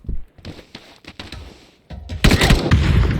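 Gunfire in a multiplayer shooter video game, bursts of rapid shots and booms in clusters, growing louder and denser toward the end.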